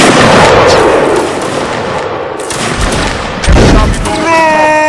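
A loud, dense musket volley in Mount & Blade Warband's Napoleonic Wars mode, with massed gunfire and battle din filling the scene, a fresh crack near the end, and a brief tonal call at the close.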